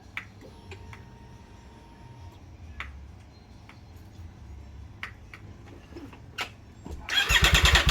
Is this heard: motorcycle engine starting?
yes